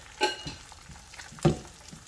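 Eggs being mixed into halwa in a hot pan: two quick scraping stirs over a light sizzle, close and brief.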